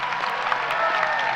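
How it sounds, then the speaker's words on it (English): A graduation audience applauds the high school band and orchestra, a steady wash of clapping filling the hall throughout the brief moment. "Let's give another round of applause for Mr."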